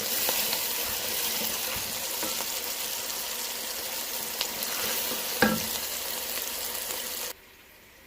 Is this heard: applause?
no